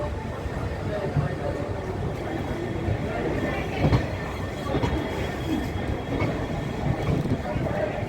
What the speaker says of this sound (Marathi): गाडी जी आहे ती मिरज जंक्शनवरून आता डिपार्चर झालेली आहे